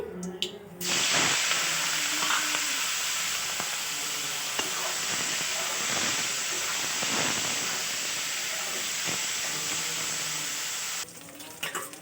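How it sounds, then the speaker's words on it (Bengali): Prawns fry in hot oil with a loud, steady sizzle that starts after a second and cuts off near the end, with occasional stirring clicks. "চিংড়ি মাছ ভেজে নেব"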